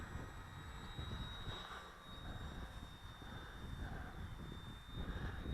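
Durafly Tundra RC plane flying after takeoff, a faint, steady electric motor whine with a constant high tone, fluctuating gently as it passes, over broadband outdoor noise.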